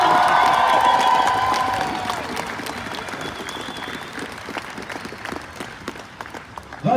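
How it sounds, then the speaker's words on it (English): Loud applause and cheering from a crowd at a protest rally in Victoria, Canada, with whoops early on, then thinning into scattered claps and shouts. "Round of applause for you."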